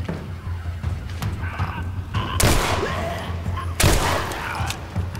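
Gunfire from The Last of Us: Left Behind video game rings out in a few sharp bursts, loud and close, over a busy background of game ambience and low rumble.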